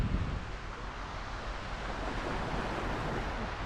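Atlantic Ocean surf at a beach on a cold day: a steady, full wash of breaking waves mixed with wind rumble, with no voices.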